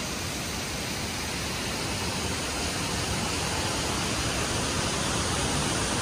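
Steady, loud broadband roar of a waterfall beside an ancient temple at Tirathgarh, a continuous rushing wash of falling water that fills the whole clip with no breaks and no voices.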